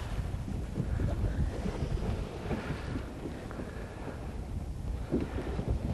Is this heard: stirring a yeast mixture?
no